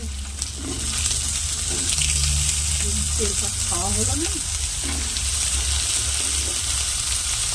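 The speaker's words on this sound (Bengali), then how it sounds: "মা পেঁয়াজটা ভাজছে" Onions frying in a pan crackle with a loud, continuous sizzle, accompanied by a low hum and a few faint voices in the background.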